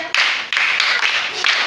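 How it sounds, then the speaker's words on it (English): A group of schoolchildren claps for a classmate at a maths bootcamp, a loud burst of rapid applause broken into four short waves with brief gaps. "Clap for him."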